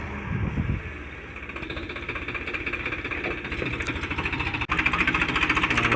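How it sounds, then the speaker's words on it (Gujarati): A heavy tractor works a field for potato planting, its engine running close by with a steady, rapid knocking chug that stays loud and even throughout, with no voices. "ફરતું છે હેવી ટ્રેક્ટર"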